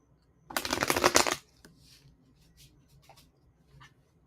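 Tarot cards are shuffled in one quick, close riffle burst lasting about a second, followed by faint soft handling rustles and small taps in a quiet room.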